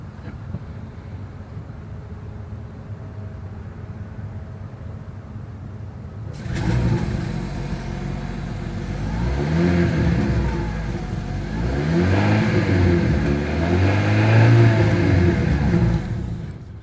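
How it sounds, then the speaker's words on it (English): After a quiet idle, the engine of a 2023 Hyundai Sonata Hybrid starts and revs repeatedly, the exhaust note rising and falling in several loud, close sweeps. "As always, here is that exhaust clip."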